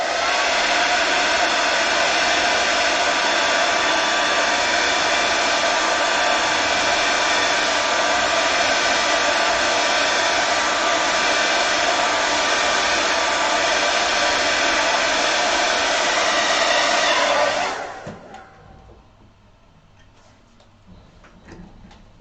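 Hair dryer blowing steadily and loudly to dry watercolour paint behind the rocks of a lighthouse painting, a continuous roar that cuts off near the end, leaving quiet room noise.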